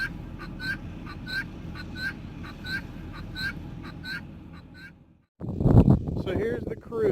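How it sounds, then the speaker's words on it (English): Guinea fowl call in a rapid, repeated rhythm of harsh, regular cries at moderate distance, followed by louder, closer squawking and cackling near the end. "I hear you, guineas."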